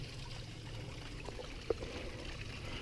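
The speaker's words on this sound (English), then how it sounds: "But there's the waterfall." Small waterfall with low water flow, a steady soft trickling and splashing wash heard alone at moderate distance, with one brief sharper splash.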